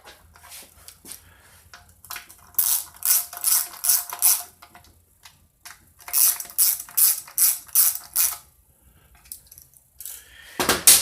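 Bursts of rapid ratchet clicking come from a hand ratchet tightening bolts on a Ford 4R70W automatic transmission during assembly, in several separate runs of quick, close, crisp strokes with short pauses between them.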